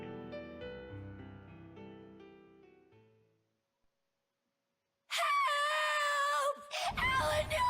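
A character screams in the video game Tales of Berseria, a loud, piercing wavering cry that bursts in after fading music and a moment of silence, then breaks into strained, groaning vocal sounds.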